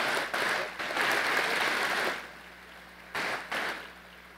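Applause for a group of distinguished preparatory school teachers at a course inauguration ceremony, a moderately quiet wash of clapping that swells, drops away after two seconds, then returns in short bursts.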